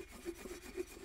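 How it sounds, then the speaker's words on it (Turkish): A fire-blackened pot is scrubbed with oak wood ash, giving quiet, rhythmic rubbing strokes repeated a few times in close succession. "Her gün ince toprakla sürtüyordum, bir de külle sürteyim dedim."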